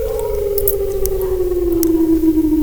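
An Emergency Alert System siren wails alone on a single loud, steady tone that slowly falls in pitch, with a faint hiss underneath.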